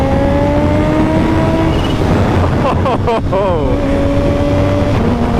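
A 2016 Kawasaki Ninja H2 motorcycle engine whines loudly and steadily, with pitch shifting as the bike accelerates through gears, heard close under wind noise while a rider briefly exclaims.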